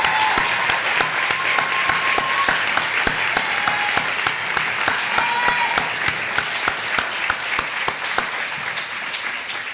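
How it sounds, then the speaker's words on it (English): An audience at an oratorical contest gives the student presenters a sustained round of applause, dense and steady clapping filling the room at an even level throughout, with no voices rising above it. "One more round of applause for all of our presenters."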